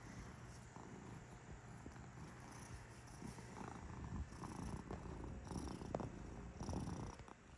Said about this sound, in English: Can't be too mad. You're purring.